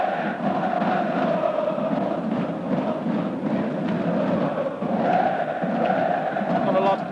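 A fanatical Galatasaray football crowd fills the stadium at a Champions League match against Manchester United, a loud continuous roar of chanting and whistling that swells slightly toward the end, with faint commentary underneath.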